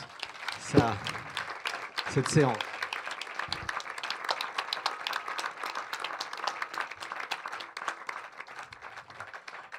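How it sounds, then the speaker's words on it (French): An audience at a film conference in France applauds for several seconds, dense steady clapping that follows a short spoken phrase and slowly thins out. "vous demander de l'applaudir pour"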